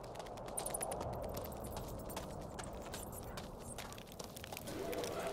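Horses clip-clopping in Two Worlds, a steady run of hoof beats on hard ground, moderately close but fairly quiet, with a faint background bed throughout.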